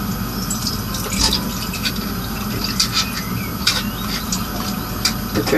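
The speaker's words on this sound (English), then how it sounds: "So next we want to drain the jackfruit." Tinned jackfruit packed in water is drained in a kitchen, giving a steady trickle and splash of running liquid with several brief louder gushes and spatters.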